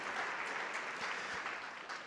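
Audience applause after a talk at an urban-transition conference, an even, continuous clatter of many hands clapping, moderate in level and steady for two seconds.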